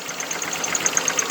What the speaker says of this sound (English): Has a misfire on it. I think it has a burnt valve on it